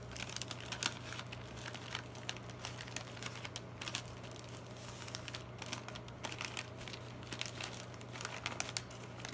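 Wrapping paper crinkling and rustling while a gift is wrapped and creased, faint continuous crackles with sharper clicks, over a low steady hum.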